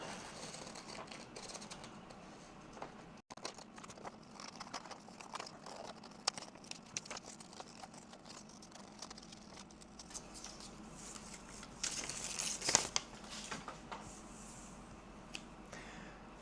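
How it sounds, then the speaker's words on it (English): Paper patterns for a Twi'lek costume headpiece are cut out with scissors, faint intermittent snips and paper rustles close by, with a louder crinkling burst near the end. "So go ahead and cut out your patterns."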